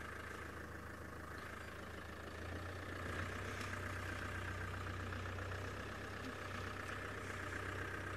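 A safari vehicle's engine idles out in the bush, a steady low rumble that swells slightly partway through and holds on without talk.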